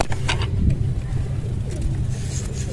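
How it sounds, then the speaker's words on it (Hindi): Pigeons on a rooftop coo in low, continuous, close murmurs with a few wing flutters. A low hum of background traffic sits beneath them. "ज़रा कबूतर भी हमने पकड़े हुए हैं।"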